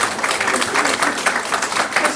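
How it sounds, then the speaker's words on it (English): Steady applause from an audience at a live mediumship demonstration, a dense patter of clapping hands that continues throughout without pause. "can I give you a round of applause for coming out here tonight"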